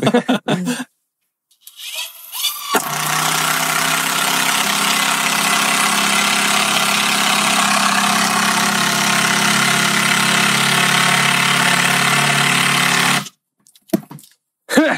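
A Bosch GDR 18V-210C cordless impact driver runs at low speed in one sustained, steady whirring drone lasting about ten seconds, close and loud, with short bursts of noise and silence before and after.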